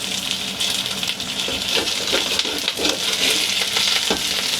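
Continuous loud sizzling of fresh corn kernels pan-frying in hot oil over high heat, with occasional pops and scraping, close by and without talk.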